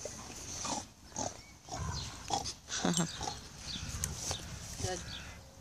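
A dog grumbles low, close to a growl, in short throaty bursts while a person talks over it nearby.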